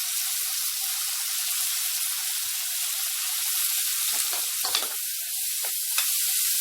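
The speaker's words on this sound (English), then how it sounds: "After adding curry leaves, add the onion. Saute it nicely." Onion and curry leaves saute in a pan for a South Indian chicken curry, giving a constant close bright sizzle with occasional stirring scrapes and clatters toward the end.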